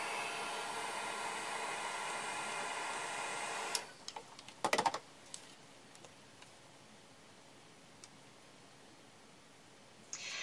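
A heat gun blows hot air over embossing powder on a mixed-media tag, a steady loud broadband whoosh that cuts off after about four seconds, followed by a few handling clicks and a faint restart at the end.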